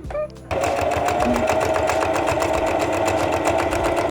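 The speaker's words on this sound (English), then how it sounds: "I hope my poor little sewing machine can get through this" A sewing machine runs steadily and loudly, its needle punching in a fast, even rhythm through heavy, thick fabric after a brief quiet start.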